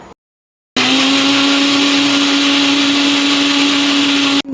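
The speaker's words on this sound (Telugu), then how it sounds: "ఇదంతా చక్కగా మనం మిక్సీ చేసేసుకోవాలి" A mixer grinder starts after a brief silence and blends sugar and lemon juice in a steady, loud, high-pitched whir that runs unbroken for several seconds before cutting off.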